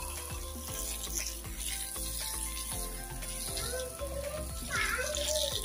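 Clothes being washed by hand with water, giving a steady splashing and sloshing with scattered knocks, while a voice and other faint voices are heard in the background.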